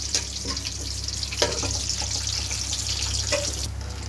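Whole spices, cardamom, cinnamon, cumin, cloves and black pepper with salt, fry in a pot for Kashmiri biryani, a soft steady sizzle with a few brief clinks and stirring scrapes, close by and fairly quiet.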